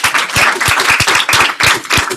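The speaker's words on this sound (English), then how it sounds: "Round of applause." Lively applause from a small audience, close, fast irregular hand claps forming a loud crackling burst with no talking over it.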